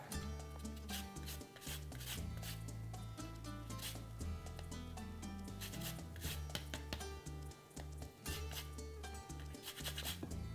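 A lemon is zested on a grater in repeated quick rasping strokes that scratch along steadily and close up, over a low droning musical background, with no talking.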